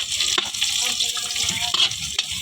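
Carrots and kikiam fish balls frying in a pan while being stirred, a bright watery crackle of hot oil with scraping utensil clicks, brief and close.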